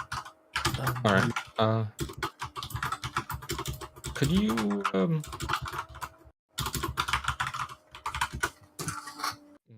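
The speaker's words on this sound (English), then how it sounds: "Someone's smashing the keyboard." Someone typing hard and fast on a computer keyboard, rapid loud clacking keystrokes running through most of the stretch while several people talk over it.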